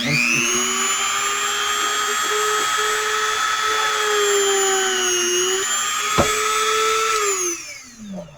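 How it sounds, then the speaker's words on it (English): A Dremel rotary tool drills a hole through a Scrabble tile, a steady high-pitched whine held for several seconds with slight pitch dips under load before spinning down at the end. "So sometimes I'll drill right through, you know, put a hole in the top of the Scrabble tile."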